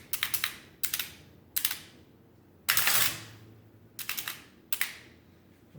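Keys pressed on a Hermes 167-12 mechanical printing calculator: clustered sharp clacks in quick bursts of two to four, with one heavier mechanical clunk midway, close and crisp with quiet gaps between.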